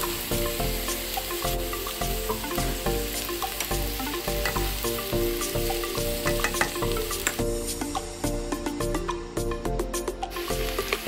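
Leftover lechon goes into a pot for a mung bean and pumpkin soup and sizzles loudly and close, with scraping and stirring of the pieces against the pot and no talking.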